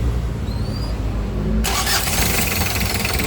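A Hyundai H100 engine with a newly fitted starter motor sits quietly under a low rumble, then cranks and fires halfway through, bursting into a loud, steady, close-up run with no talking.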